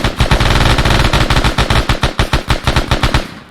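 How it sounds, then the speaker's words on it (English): Loud machine gun bursts from squad weapons in Arma 3, fired at close range across a breaching target range; rapid sharp reports in several overlapping bursts with brief gaps, no talk. "Just give me sort of a 5-meter burst left to right across that red stripe there."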